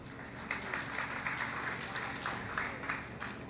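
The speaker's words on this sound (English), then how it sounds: "You know, I could kind of get used to this applause." Steady audience applause at a public briefing on eruption evacuation routes, a dense even patter of many hands heard at moderate distance, continuing without a break.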